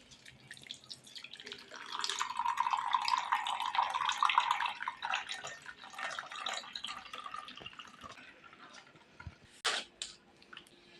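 Blended watermelon is strained in a mixing bowl, giving a steady, close watery trickle and splashing for a few seconds that fades to faint drips, followed by a sharp clink near the end.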